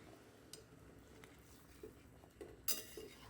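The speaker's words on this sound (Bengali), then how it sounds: "হালকা হাতে একটু নেড়ে চেড়ে দেব" A spoon gently stirs a yogurt-based rupchanda fish curry in a pan, giving soft, faint scrapes and wet shuffles with a sharper clink of metal near the end.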